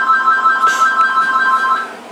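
An AT&T TL92328 cordless phone rings a second handset on intercom, a steady electronic ring pulsing at close range and sounding alone.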